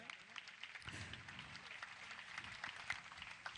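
Audience applause at a Jain religious gathering, a sustained patter of clapping over 3.6 seconds, fairly faint and steady, with a few sharper claps standing out near the end.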